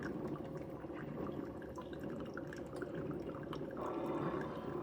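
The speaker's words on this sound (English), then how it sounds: "this one you can hear kind of the water boiling and heating up" A Hamilton Beach single-serve K-cup coffee maker heating water, a faint continuous bubbling and hissing with soft crackles and drips, steady and close with no talk.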